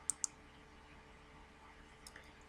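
Two sharp, quiet computer mouse clicks in quick succession, close to the microphone, followed by faint softer clicks against a steady low room hum.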